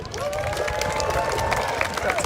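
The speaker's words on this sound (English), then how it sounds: "Please give a big round of applause for Dr. Catherine Walsh." An audience at an Extinction Rebellion event in Bristol breaks into applause and cheering for a university speaker, a dense crowd of clapping with whoops rising throughout, fairly close and continuous.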